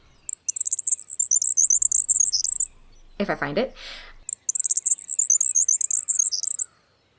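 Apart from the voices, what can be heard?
small brown bird singing a robot-like song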